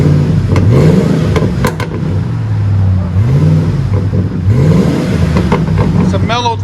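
Revving from a 2006 Lincoln Mark LT truck with a dual exhaust on its 5.4L Triton V8. The engine runs a loud, deep, mellow idle, then rises in three repeated throttle blips that swell and fall back.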